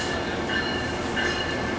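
An Amtrak passenger train rolls by with a steady rumbling roar and faint high wheel squeals, continuous and fairly close.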